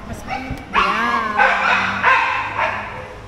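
A dog barks and yips several times nearby indoors, a few close, loud barks in quick succession with a light whimpering tone.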